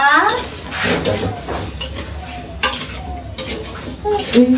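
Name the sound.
food frying and being stirred in a pan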